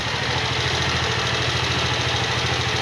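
A Benelli Seta scooter engine idling close by, a steady low mechanical hum with a fine rapid pulse and continuous vibration, unchanging throughout.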